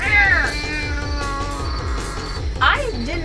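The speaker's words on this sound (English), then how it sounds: "the critter noise is awful and it's so annoying. And it sounds like a cat when it gets hit" A cat-like creature screech from the monster movie Nightcrawlers, wavering meows and caterwauls over a rhythmic pulsing low beat, with a sharp cry near the end and voices talking underneath.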